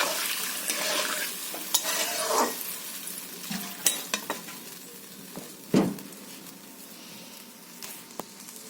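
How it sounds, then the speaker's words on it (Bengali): Water poured into a curry of bottle gourd in a pan on the stove sets off a sizzle and bubbling, with scattered clinks and stirring scrapes of a utensil against the pan, all close and fairly loud. "তো বন্ধুরা আমি জল দিয়ে দিচ্ছি তরকারিতে।"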